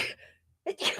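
A single sharp human sneeze bursts out up close, followed after a short pause by another brief sneeze or voiced exhale, with a faint murmur in between.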